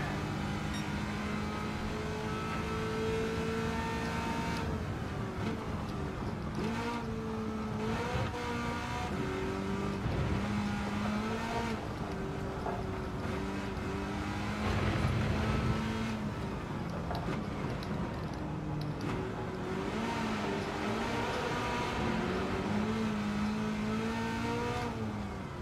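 Engine revving and tyre squeal from a car drifting in Gran Turismo 7, with a continuous loud engine whine that rises and falls through gear shifts and slides for the whole stretch, no talking.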